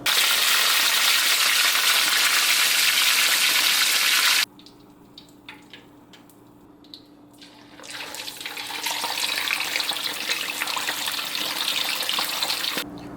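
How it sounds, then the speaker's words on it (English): Whole porgy fish fry in hot oil in a wok, a loud, dense sizzle that drops away suddenly, then swells back into a strong, steady crackle. "I'm going to fry both of them up whole in the wok."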